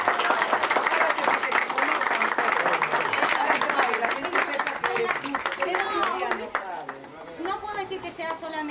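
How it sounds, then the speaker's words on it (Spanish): Audience applause honouring Natalia Turco at a Spanish-language political youth gathering, a steady wash of many hands clapping that holds throughout, with voices and cheers mixed in near the end. "para quien pido un cariñoso aplauso"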